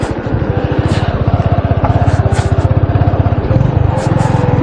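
Motorcycle riding along an unpaved rural road in Masbate, a close, loud, pulsing engine drone with rapid even firing beats and occasional bumps and rattles.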